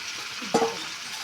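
Boiled potatoes and jackfruit fry in spiced oil in a pan, a steady close sizzle broken by one brief stirring scrape.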